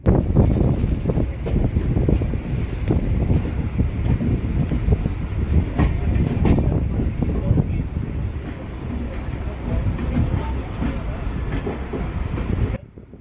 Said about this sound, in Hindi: अब यहाँ पर ट्रेनें 110 की स्पीड से लगातार भाग सकती हैं